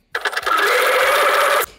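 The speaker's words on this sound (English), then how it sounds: "I'm again just sewing to the side of my line to make sure that I intersect" A sewing machine quilts a diamond grid, running in one loud, close, continuous burst of rapid stitching that starts abruptly and stops just as sharply.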